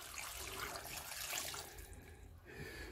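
Water runs from a kitchen tap in a steady, soft hiss for a few seconds, quiet and close, during cooking.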